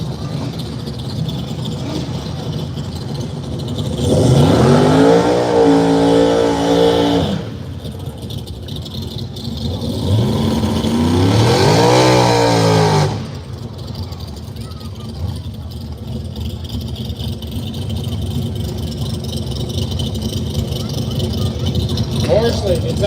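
Drag racing cars, including a Monza in a daily driver class, at an arm drop race; two loud engine runs rise in pitch as they accelerate, with a continuous outdoor rumble and a commentator talking over them.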